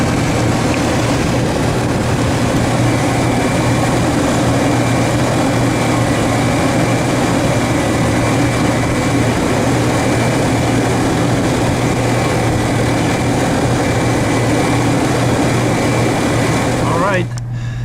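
A Chevrolet Astro van engine idles at operating temperature after a cooling system radiator flush, a loud, steady, close-up drone that holds unchanged throughout and cuts off abruptly near the end.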